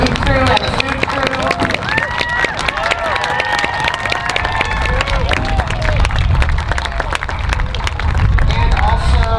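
Clapping and cheering from a lively crowd amid chatter and high excited voices, continuous throughout.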